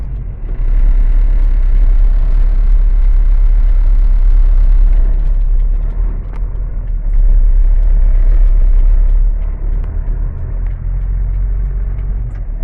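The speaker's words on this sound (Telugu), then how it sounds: "కొంచెం జరుగుతున్నాయి బండ్లు ఇప్పుడు." Vehicles crawling slowly along a Saudi highway, a loud, steady, close engine and tyre rumble that swells and dips with passing traffic, with no voices.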